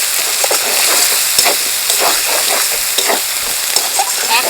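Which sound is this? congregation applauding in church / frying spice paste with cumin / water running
frying spice paste with cumin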